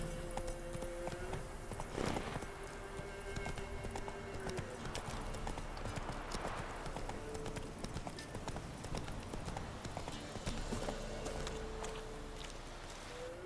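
A horse's hooves clip-clop in a steady walking rhythm across The Witcher 3: Wild Hunt, close and continuous, layered over ambient game music and with a faint whinny.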